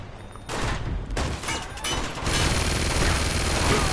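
Heavy gunfire from a mounted machine gun in the video game Uncharted 2: Among Thieves, loud dense bursts that build into continuous rapid firing, with a quieter gap at the start.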